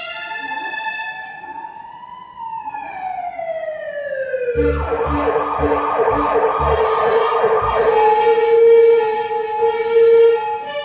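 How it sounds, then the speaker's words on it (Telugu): An ambulance siren wails in long rising and falling sweeps, loud and close, and a rapid yelping pattern takes over midway under crowd noise and faint voices. "అంబులెన్స్"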